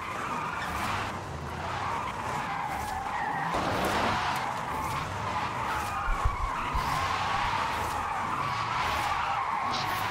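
Tires squeal and skid continuously as an electric Porsche Taycan Turbo S drifts in Forza Horizon 5, a sustained, loud screech with no engine note, steady throughout with a couple of brief bumps.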